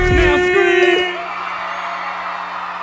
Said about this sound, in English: Raise your hand and scream. Now scream.